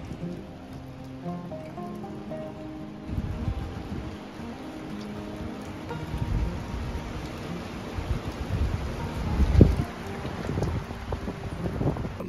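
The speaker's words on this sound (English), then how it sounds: "I wanted to show you how hard the wind is." Strong wind buffets a camper during a snow and ice storm, with a steady rushing roar and microphone wind noise. Gusts grow louder toward the end and are mixed with pattering that sounds like rain or ice.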